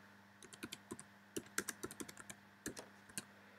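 Someone types on a computer keyboard during a Zoom online lesson, irregular bursts of quick, close, crisp key clicks over quiet room background.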